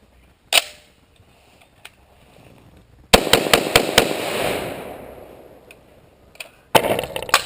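A Colt mil-spec magazine seated into and handled in a Beretta ARX100 rifle, giving a sharp click near the start, then a loud burst of metallic clacks and rattles fading into a scraping rustle, and another hard clack at the end.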